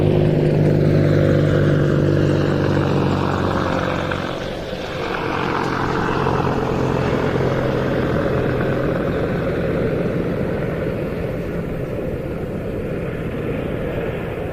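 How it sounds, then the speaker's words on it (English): US Army and Dutch AH-64E Apache Guardian helicopters departing the Royal International Air Tattoo, a loud continuous rotor and turbine roar that dips briefly midway, then holds steady as they pass. "that is a US Army Apache. There is a Dutch Apache coming through as well"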